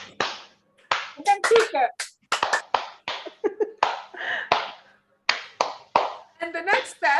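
Rhythmic hand clapping from a laughter yoga exercise, in bursts of claps that speed up, with a voice speaking and counting over the clapping close by.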